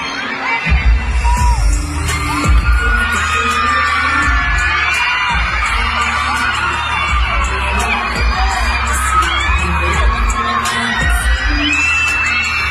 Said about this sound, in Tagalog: wala nang marinig sa kanyang performance pero nalang hiyawan ng mga fans